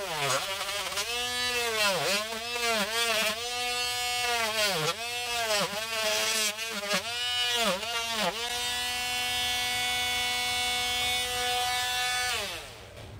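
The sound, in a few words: Parkside 20V cordless multi-purpose tool cutting drywall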